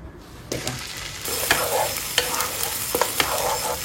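Boiled ginger and onion are stirred in a hot pan for a creamy paneer dish. A dense sizzle starts suddenly and is broken by several distinct scraping stirs up close, with no speech.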